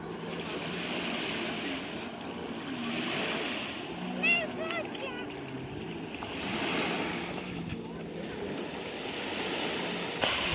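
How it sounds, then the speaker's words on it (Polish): Small, gentle waves lap softly along a calm Baltic Sea shore near Gdańsk on a hot day, a steady low wash with light wind noise and a few brief higher tones. "Dzisiaj morze jest bardzo spokojne. Fale są maluteńkie."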